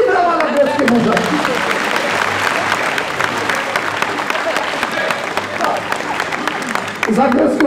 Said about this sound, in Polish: Oczywiście, wielkie brawa na greckie mężatki.